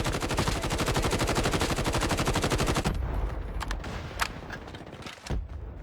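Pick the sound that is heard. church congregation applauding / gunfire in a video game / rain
gunfire in a video game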